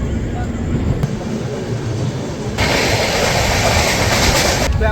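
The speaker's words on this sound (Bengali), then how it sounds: "আর আমাদের ট্রেনটা ছেড়ে দিয়েছে" A passenger train pulls out of a station while heard from inside a general compartment by the window: a steady, loud rolling rumble that grows fuller and stronger partway through and continues unbroken.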